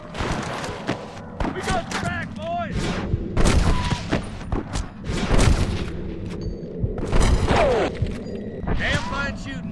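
Gunfire rattles through a shootout in Red Dead Redemption 2, with repeated loud bursts and booming shots in rapid clusters across the scene, while characters shout and talk over the firing.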